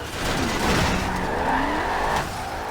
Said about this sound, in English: it will immediately rev up and blow your tires off and allow you to drift it